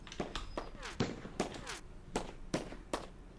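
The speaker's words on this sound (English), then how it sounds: "Now that is one of my guns that's just gone off." Turret guns firing in the Minecraft modpack Forever Stranded, a series of sharp, evenly spaced bangs about every half second, fairly close, with a faint voice underneath.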